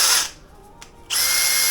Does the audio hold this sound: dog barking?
no